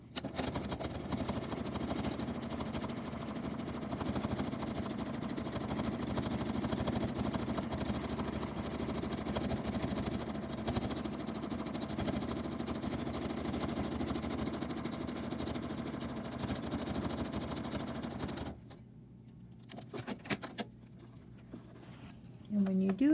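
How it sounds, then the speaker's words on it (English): Sewing machine running steadily while stitching bobbin work with pearl cotton around a design edge, a continuous close mechanical whir for about eighteen seconds before stopping, followed by brief handling noises. "stitching right around the edge of the design that you have on the front of your"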